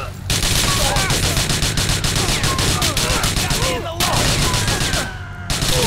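Rapid bursts of gunfire fill a GTA 4 video game shootout, loud and nearly continuous, with a couple of brief gaps and a voice talking over parts of it.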